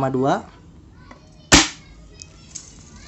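A single sharp pop of a Tokyo Marui VSR-10 airsoft sniper rifle shot midway, firing a 0.2 g BB at about 302 fps, preceded by a short voice and followed by faint clicks.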